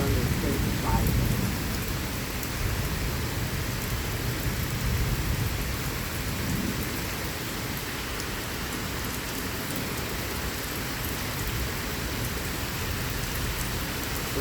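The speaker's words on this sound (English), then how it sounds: "thought I heard 2 rumbles of thunder" Heavy rain pours steadily during a severe thunderstorm with damaging winds in southeastern Pennsylvania, a dense close hiss with a low thunder rumble early on, no talk.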